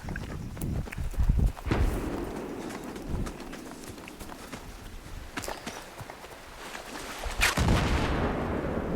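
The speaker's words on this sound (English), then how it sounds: "Seems to be a lot of explosions going on without any real activity." Scattered booming explosions in Battlefield 3, some near and sharp, others distant, amid a rumbling game soundscape with occasional bird calls and clattering.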